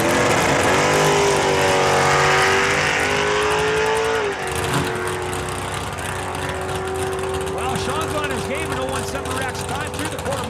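A Chevy II drag race car, Slayer 2, accelerating hard at a drag strip, its loud engine roaring and climbing in pitch, then shifting and pulling away under a public-address announcer's voice.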